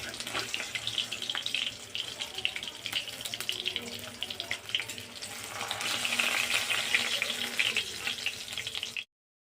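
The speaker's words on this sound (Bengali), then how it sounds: "মাছটা আমার ভাজা হয়ে গেছে" Pomfret fish fries in hot oil, giving a steady crackling sizzle that swells louder in the second half and stops abruptly at the end, with a voice speaking over it.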